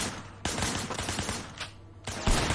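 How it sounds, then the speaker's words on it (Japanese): Video game gunfire in blind-fire mode, from a Hong Kong secret police game: loud, close bursts of rapid shots in several separate volleys, with brief gaps between them. "ブラインドファイアモードで銃を撃て"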